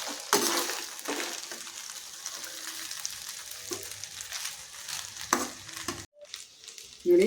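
Pepper rice with salt is mixed in a hot pan, a soft steady sizzle under repeated scraping strokes of a spoon against the metal, with a few sharper knocks and a brief pause near the end.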